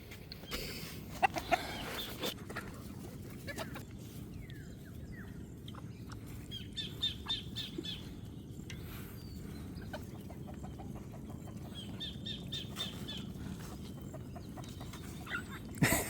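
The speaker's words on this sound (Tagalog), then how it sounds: "ayan na, lumapit na yung manok" Chickens cluck softly while being fed rice in a farmyard, scattered short clucks and bird chirps at a low level over quiet background, with a few sharper knocks early on.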